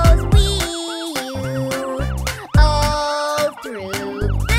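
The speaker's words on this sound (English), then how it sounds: "That siren on the fire truck goes wee-you," A cartoon fire truck siren in a kids' song sounds as a loud, sweeping wail that rises and falls in repeated cycles, with musical backing and short gaps between phrases.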